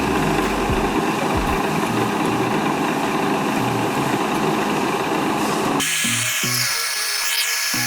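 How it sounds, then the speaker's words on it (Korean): Heavy crane engine running at a building site while lifting a steel H-beam over 6 m long into place, a steady close rumble with tool-like whine, and machinery noise shifting to intermittent knocks near the end. "그래서 크레인을 사용해 작업을 진행해주는 겁니다."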